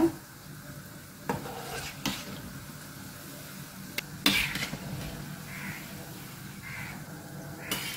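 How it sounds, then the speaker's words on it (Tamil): Sweet seedai frying in hot oil: a soft, continuous bubbling sizzle, fairly quiet, broken by a few knocks and clatters from the pan. "எல்லா சீடையும் பாட்டி போட்டுட்டேன், வேகட்டும், நல்லா வெந்து வரும்."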